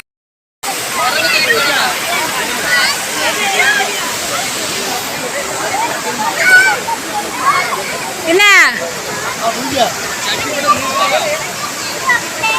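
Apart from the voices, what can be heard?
river water flowing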